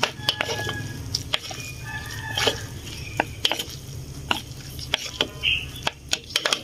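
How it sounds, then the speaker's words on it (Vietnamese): Instant noodles being tossed with a sauce packet in a bowl or pan: repeated sharp clinks and scrapes of utensils against the dish, with a soft sizzle underneath. "bây giờ mình sẽ cho cái bịch sốt vào nha. Giờ mình sẽ trộn đều lên."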